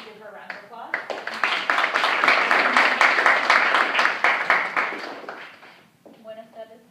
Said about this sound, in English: If everyone could give her a round of applause.